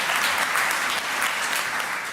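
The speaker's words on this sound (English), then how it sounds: "One more round of applause for our 5 fellow young leaders." An audience at an International Youth Day event applauds five young leaders, a dense, steady clapping that fills the whole stretch without pause.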